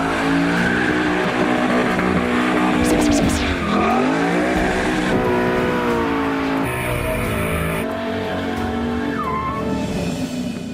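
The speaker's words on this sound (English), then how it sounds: "That's the first thing you do in a Mustang is you dump the clutch and you just do a huge burnout." A Ford Mustang Boss 302 does a tire-warming burnout, its loud engine roaring with revs rising and falling while the tires squeal and skid steadily throughout, close and continuous.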